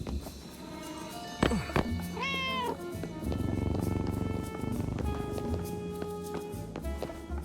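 In a video game, a cat meows once briefly, then purrs softly and steadily against a background of game ambience, with light clicks and taps scattered throughout.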